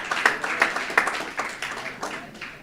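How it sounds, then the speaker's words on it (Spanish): Rhythmic hand clapping from a church congregation in Bonaire, a moderate run of sharp claps at a steady pace, fairly close and without accompanying talk. "Un aplauso para Ujernan"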